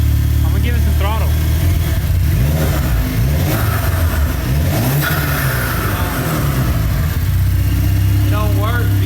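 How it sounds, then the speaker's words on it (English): A salvaged race car's turbocharged engine revs hard under throttle, loud and close, with repeated rising and falling surges over a rough idle while people talk over it. "The boost works. I'm gonna give it some throttle."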